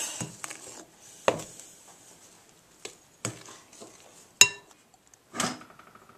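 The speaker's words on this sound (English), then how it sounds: "Let me mix that into the batter" Fruit and walnut cake batter being mixed in a bowl, with sparse clinks and taps of a utensil against the bowl spaced apart, several sharp knocks amid quiet gaps, close and dry.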